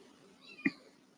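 A kitten lets out a single short, clear meow in a quiet indoor room, preceded by soft background hush.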